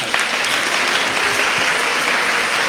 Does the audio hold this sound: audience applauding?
yes